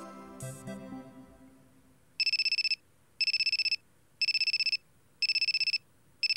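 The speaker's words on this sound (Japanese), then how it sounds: "はい、で電話来ますよね。" A phone ringtone plays as four or five evenly spaced bursts of rapid bright trilling rings with short gaps between, after a brief fading musical passage, no voices.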